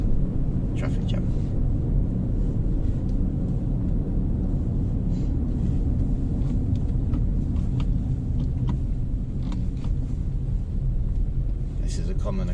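Slow traffic jam on a road near Torremolinos, heard from inside a car as a constant engine and road rumble, with a voice talking throughout.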